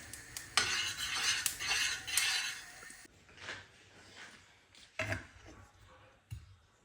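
A spoon works through a thick, sticky sugar and sesame mixture with chopped nuts in a pan, scraping and clinking unevenly, with some light sizzle early on and quieter scrapes after.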